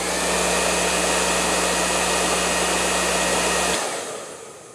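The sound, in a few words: Parlux Italian hair dryer running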